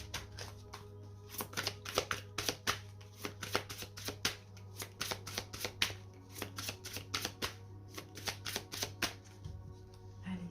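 Oracle cards are cut and shuffled by hand, a quick run of soft, crisp riffling bursts repeating close by against a low steady hum.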